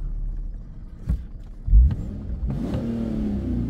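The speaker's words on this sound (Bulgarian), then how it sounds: "На място повече от 4000 оборота не може да я изфорсирате." A 2013 Infiniti FX37 engine revs up in place, capped by a soft limiter at about 4000 rpm. The engine note rises with a couple of sharp bursts, then settles into a steady, moderately loud hum with no talking.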